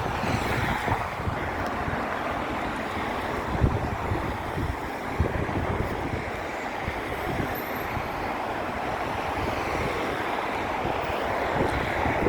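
Strong wind gusts across a park on an outdoor walk in Crosby-Waterloo, Liverpool, a continuous loud rushing roar with heavy buffeting against the microphone throughout and no talking.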